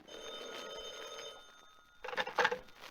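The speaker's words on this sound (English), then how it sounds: "the telephone rang" An old-style telephone bell rings in two short bursts with a pause between them, the metallic jangling fairly faint and clear in a quiet room, no one speaking.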